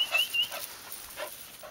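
Dogs on a morning walk near Mackay whimpering in soft, high yips alongside quiet panting breaths, a few short whines repeating at close range with no talk over them.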